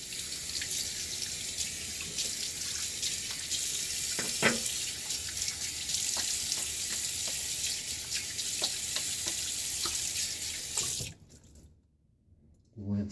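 Tap water runs steadily into a sink while a safety razor is rinsed during a wet shave, a close continuous splashing hiss with small clinks, stopping abruptly near the end.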